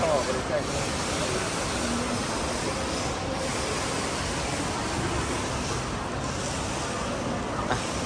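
A waterfall roaring as a dense, continuous broadband rush, loud and steady throughout.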